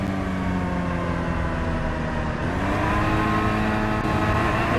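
Car engine in a taxi driving game, revving and accelerating with a steady rising drone, loud and continuous, no talk.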